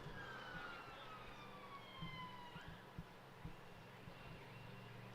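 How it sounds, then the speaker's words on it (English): An ambulance siren wails down a road outside a county cricket ground, its falling tones sweeping faintly through a steady crowd and ambient murmur, with a few soft thumps underneath. "Oh, here it comes, an ambulance down the Loughborough Road."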